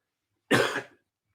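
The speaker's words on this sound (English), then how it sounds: "there was the cough" A single short, sharp cough, close and loud, followed by silence.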